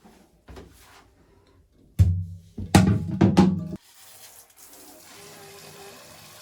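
Hot and cold water being mixed: water splashes and pours in a few short bursts, then a quieter, steady trickle continues.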